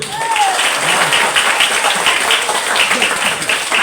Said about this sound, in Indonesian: Kalau menang tepuk tangan dulu.